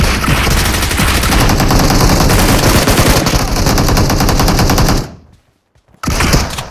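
Rapid bursts of shotgun fire in the video game BGMI, loud and close, firing continuously for about five seconds, then a brief silence before another short burst.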